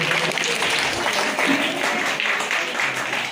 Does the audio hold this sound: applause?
yes